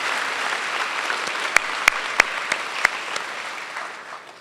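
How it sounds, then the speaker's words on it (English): Broad, even clapping from a convention audience honoring governors' spouses and families at a National Governors Association meeting, steady and unbroken with a few louder sharp claps standing out, no voices. "Could you give a round of applause to our spouses and family members that support the leadership of"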